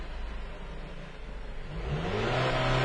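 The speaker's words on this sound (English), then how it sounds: "do that thing where I hit the gas pedal and nothing happens" The engine of a 2010 Chrysler Sebring with an intermittent low-power, hesitation fault rises from a faint idle into a swelling rev as the gas pedal is pressed, close and fairly quiet.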